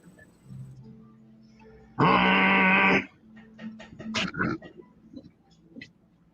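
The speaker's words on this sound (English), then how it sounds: "I got to blow my nose." A single loud, honking nose blow bursts out for about a second, followed by sniffles and quiet rustling nearby.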